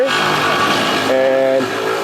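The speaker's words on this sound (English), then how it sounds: "He's down there finalizing the exhaust, as you can hear" Turbocharged car exhaust revving steadily nearby in a garage while the exhaust is being finished, a continuous loud engine drone with a brief higher-pitched rise partway through.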